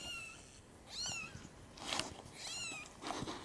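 Kitten meows repeat in a home setting, about four high, rising-and-falling mews spaced roughly every second, close and moderately loud with faint room noise between them.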